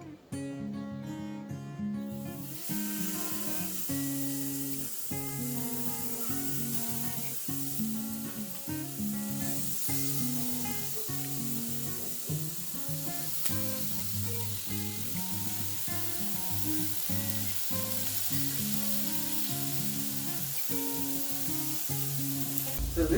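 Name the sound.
chicken shish kebab sizzling on the grill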